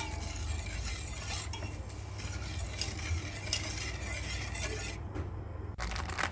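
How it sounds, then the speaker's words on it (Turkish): A semolina and pumpkin mixture is stirred in a pot on a gas stove, giving a steady close scraping and stirring sound with light sizzle and an occasional faint clink, with no talk. "Karıştırarak pişirmeye devam ettim"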